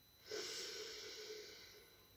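One deep, hissing inhalation during a calm sophrology session for children and parents, rising quickly, then held as a soft, steady rush of air for nearly two seconds, close and quiet.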